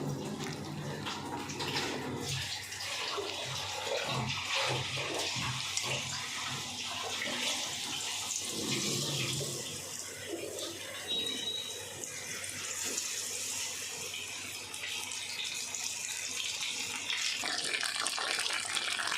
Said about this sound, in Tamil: மஷ்ரூம் 65 நல்லா மிக்ஸ் பண்ணி வச்சு இப்போ ஆயிலில் ஃப்ரை பண்ண போகிறோம்.